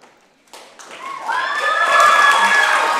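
An audience at a school round table discussion bursts into applause, building quickly from near silence into a sustained wash of clapping with some cheering.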